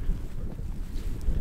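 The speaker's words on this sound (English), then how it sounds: "It's just really windy." Strong wind with blowing snow buffets the microphone in a steady low roar with gusts rising and falling, and no voices.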